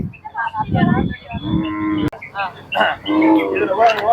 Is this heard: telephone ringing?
no